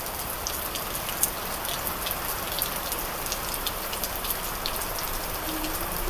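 Steady, dense unseasonal rain with wind in a village, pattering on surfaces, an even hiss with scattered louder drops and no voices.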